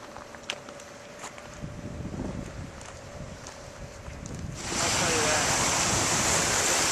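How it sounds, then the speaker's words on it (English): Waves wash onto a trash-strewn beach in Baku, Azerbaijan, with gusty wind and faint surf at first, then a loud, broad rush of breaking water taking over for the last couple of seconds. "I love the waves though"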